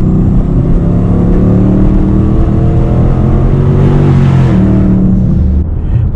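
A turbocharged inline-six car engine pulls hard under acceleration, a loud, close, sustained drone that rises in pitch through the clip before easing off near the end, with no voices.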